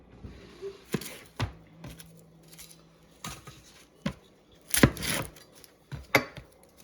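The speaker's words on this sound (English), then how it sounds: "he's going to start cutting onions" Knife chopping onions on a board, irregular sharp close thuds spaced a second or so apart, with a few quicker double strikes.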